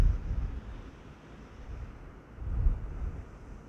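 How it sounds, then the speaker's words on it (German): Wind gusting outdoors on Gran Canaria rumbles across the microphone as a steady low roar, swelling in two stronger surges, with no voices. "man sieht, wir haben Wind"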